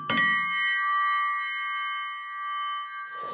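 A single sharp metallic strike on a metal part for a Chinese motorcycle engine rings out, leaving a clear bell-like tone that sustains and slowly fades for several seconds.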